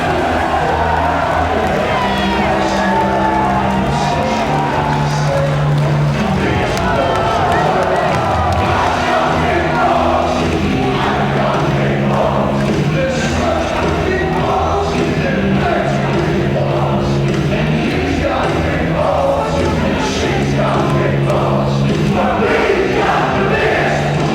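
A wrestling crowd at a British indoor show in Bethnal Green sings along and cheers, a dense, loud, continuous roar of voices with rhythmic chanting throughout.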